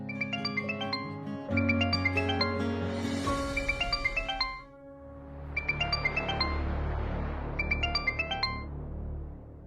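A melodic phone ringtone plays loudly in repeating bursts of bright chiming notes, with a short lull before the tune starts again.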